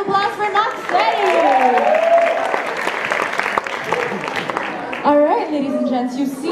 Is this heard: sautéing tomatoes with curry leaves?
no